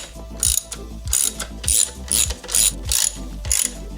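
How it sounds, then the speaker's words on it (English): Ratchet tightening engine mount bolts during a GM 2.4 Ecotec engine swap into a Miata, with clicking bursts in a steady rhythm of about seven strokes over a low hum. "Now we tighten down each of these bolts to 18 foot-pounds according to the sequence diagram in the instruction manual."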